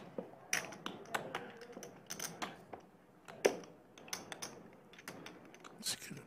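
A poker player shuffles chips at the table, giving a run of quick, sharp clicking taps at an uneven rhythm, close but fairly quiet.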